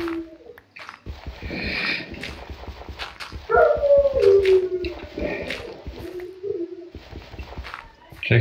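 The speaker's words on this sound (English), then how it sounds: "That dog is going to get really annoying." Dog in a Minecraft SkyBlock game whining repeatedly, high wavering whimpers rising and falling over a few seconds while players talk throughout.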